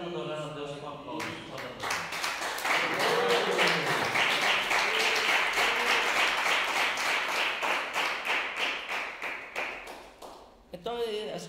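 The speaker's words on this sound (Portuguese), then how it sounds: "pode adorar a Deus com aplausos" Church congregation applauding in worship, a dense sustained wash of many hands clapping that swells after a few seconds, holds steady for several seconds, then thins out and stops near the end.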